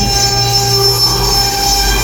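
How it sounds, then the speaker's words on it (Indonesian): A CNC router milling machine with a 3 mm bit cuts steadily and loudly. It makes a continuous high-pitched whine over a droning motor hum, with no talking. "ini lagi pengerjaan pakai mesin CNC router milling."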